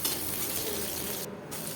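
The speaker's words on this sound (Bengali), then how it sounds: "পেঁয়াজটা একটু হালকা ভেজে নিয়ে তার মধ্যে কেটে রাখা আলুটা দিয়ে দেবো" Chopped onion and potato fry in a pan for a mixed vegetable dish, giving a steady close hiss of sizzling oil with faint stirring underneath, no speech.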